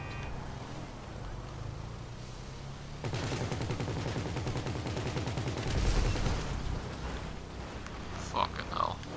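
Rapid repeated shooting, a fast rattling burst of gunfire that starts partway in and runs for several seconds, fairly quiet and mixed with background noise and some speech.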